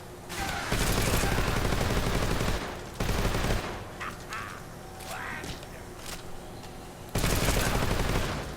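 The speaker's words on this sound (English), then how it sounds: "And then we're going to use the AK on him." AK rifle fire from the Metal Gear Solid Delta video game comes in loud rapid bursts separated by quieter stretches with faint game effects.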